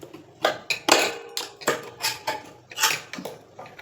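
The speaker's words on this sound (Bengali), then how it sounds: "মেশিনের এই যে প্লেটটা আছে, স্লাইড প্লেট, এটাকে তোমরা খুলবে" Metal slide plate being worked off a domestic sewing machine, giving a run of sharp clicks, taps and light metallic clatters at an irregular rhythm, close and moderately loud with no talking.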